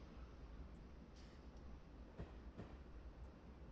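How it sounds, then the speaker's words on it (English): A train rolling along a line in the Train Simulator video game gives a steady, faint low rumble with a few soft clicks, alone with no talk. "The rest of our train still rolling down"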